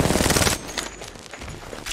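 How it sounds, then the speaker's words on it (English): Rapid automatic gunfire in Apex Legends, a loud continuous magazine dump in the first half second, followed by quieter scattered shots and game noise. "Wait, did you just mag dump?"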